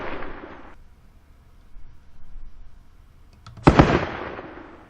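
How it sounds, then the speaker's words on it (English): Indirect artillery fire in a Spanish Civil War strategy game, heard as a loud burst of noise for the first second, then a near quiet stretch, then a sharp single blast near the end that decays slowly. "Oh, return indirect fire."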